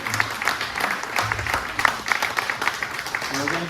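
An audience applauds after a song performance at a tribute concert, a steady patter of clapping from a moderate crowd heard under a speaking voice for the whole stretch.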